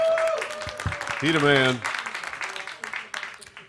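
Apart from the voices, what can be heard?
audience applause for Coop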